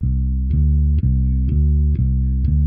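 Bass guitar playing a riff with long legato notes, each note sustaining into the next in a steady rhythm of about two notes per second, loud and close with no talk.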